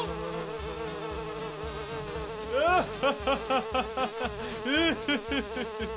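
Buzzing of flies in a busy swarm, with a steady drone and sharper pulsing swells that rise and fall in rapid bursts toward the second half.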